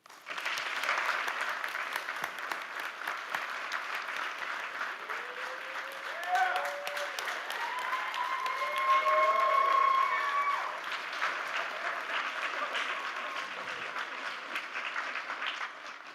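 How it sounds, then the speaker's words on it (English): Steady crowd applause at a board of directors meeting fills the whole stretch, dense clapping from many hands at moderate volume, with a few faint cheers. "For those who are able to stand, let's give them a round of applause."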